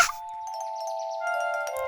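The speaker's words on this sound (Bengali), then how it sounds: "যদি হাওয়া দেয় তাহলে হাওয়া ঘন্টি বাজবে।" Bright metallic wind chime rings out in a Bengali cartoon, a quick struck chime followed by a sustained clear tone that lingers and shimmers for under two seconds, heard alone and close.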